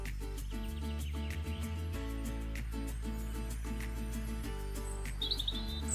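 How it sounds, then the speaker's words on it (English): Bird chirps and tweets sound faintly over a dominant low, steady musical background, with a few clearer tweets near the end. "now you know birdsong is a disturbance of particles"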